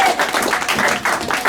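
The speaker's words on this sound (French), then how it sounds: "Alors nous applaudissons très très fort pour..." A church congregation applauding during a worship and testimony service, brisk rhythmic clapping in close bursts with voices mixed in.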